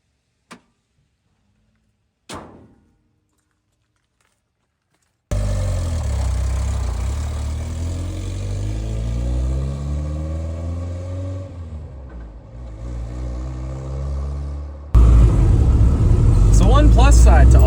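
A truck camper's engine, with its important bits disconnected from the positive during an interior rebuild, cranks and catches after a couple of brief clicks and silence, then idles roughly and revs up loudly near the end.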